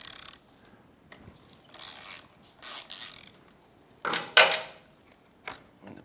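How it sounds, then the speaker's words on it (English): A 5mm Allen key backing the brake pad pin out of a 2005 Honda CRF450-R caliper makes scraping, ratcheting metal rubs in short bursts, close up, with one louder grinding turn. "we'll remove the pad pin."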